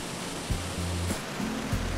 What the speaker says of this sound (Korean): 요동치는 거대한 물소리가 지축을 흔든다.